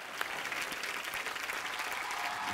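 A studio audience claps loudly and continuously on a comedy show stage, welcoming a singer in a dense, sustained wash of applause.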